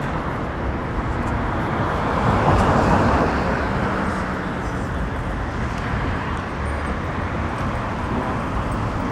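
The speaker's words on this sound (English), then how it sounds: "There's too much traffic to cross" Traffic flows along a midtown Toronto city street as a continuous broad roar of passing cars and motor vehicles, with one closer vehicle swelling past midway; no voices are heard.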